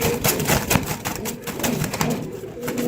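Pigeons coo on a breeding farm holding dozens of pairs, a dense overlapping murmur of calls close by that runs without pause, with a voice briefly heard in the mix.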